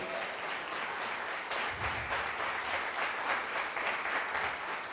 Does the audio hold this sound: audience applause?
yes